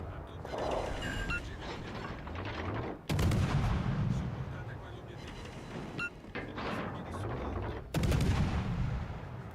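Warship gunfire in World of Warships Legends, with several heavy booming salvos at intervals over a constant low rumble of engines and sea noise, loud and near, with a voice speaking in between.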